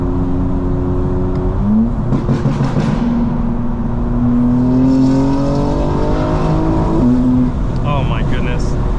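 A 900 HP 2025 BMW M4 Competition accelerates on a highway, its engine rising in pitch with a steady sustained drone from inside the cabin, as a voice speaks over it.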